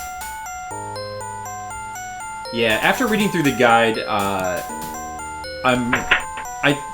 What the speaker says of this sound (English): It's finally happened. The doorbell rang.